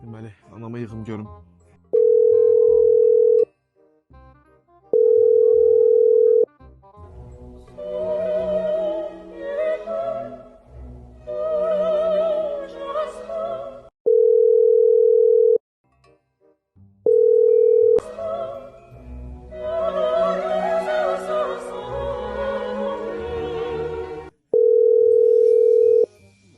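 Ringback tone of an unanswered phone call: a steady beep repeats in long pulses several times, with pauses between them. Someone talks in the gaps, in a household comedy sketch.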